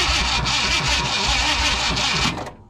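Starter cranking a 1971 Ford F100 truck with a 360 engine as it tries to start, a loud, steady rhythmic churning of about a dozen engine turns that runs alone and cuts off abruptly near the end.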